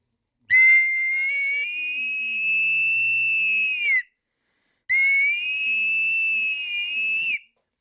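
An ancient Mexican double, triple or quadruple clay whistle sounds two long, shrill, steady blasts of several blended tones, each about three seconds long, separated by a brief silence.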